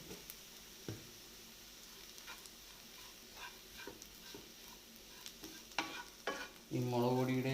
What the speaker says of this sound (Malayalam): മല്ലിപ്പൊടിയുടെയും പച്ച മാറുന്ന വരെ ഒന്ന് വഴറ്റി കൊടുക്കാം.